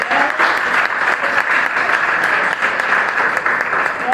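A church congregation claps steadily and loudly for several seconds, a dense, even applause in a large room with no voices rising above it.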